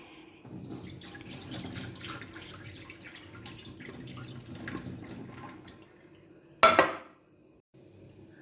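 Water runs and drains from dried fish resting in a kitchen sieve. A soft, continuous trickle is broken by light clinks of metal utensils, then a sharp clatter near the end.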